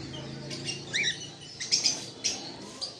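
Adult conure parrots at a bird sale make a few short, fairly quiet chirps and tweets over a low background hum.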